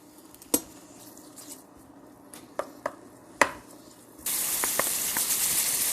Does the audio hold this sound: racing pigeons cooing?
no